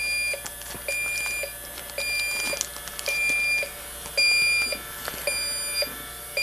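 Electronic refrigerant leak detector giving repeated short, high-pitched electronic beeps at an irregular rhythm, close and clear against a steady faint background hum.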